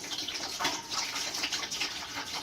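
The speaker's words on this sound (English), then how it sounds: "Then we're going to put 3 gallons of water into our pan" Water runs steadily into a pan on a stovetop, three gallons for a strawberry mash, making an even rushing splash with no pauses. It sits at moderate volume with no talking over it.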